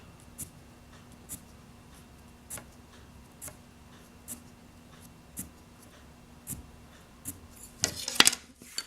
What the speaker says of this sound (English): I'm going to take my scissors. I'm going to cut down to that line.